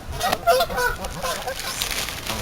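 Geese and ducks at a pond honk and squawk loudly and repeatedly in overlapping bursts, close by, with a few quieter calls between.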